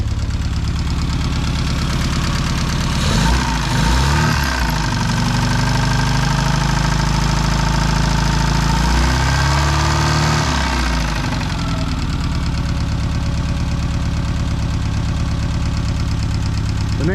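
A classic Mini engine runs steadily with a loud, continuous drone, knocking unevenly at first before settling into a smoother idle, close up and with no talk.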